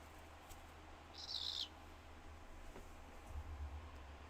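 A pet bird gives a single short, high call indoors, faint against a low hum and background hiss, followed by some low rumbling noise.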